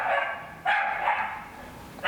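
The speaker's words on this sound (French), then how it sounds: "mes voisins ont un chien qui kiffe aboyer" A neighbours' dog barks through thin apartment walls, two or three loud barks with a brief pause between them, no voices.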